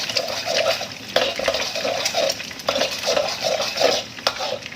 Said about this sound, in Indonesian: Bawang putih nggak perlu terlalu lama menumisnya.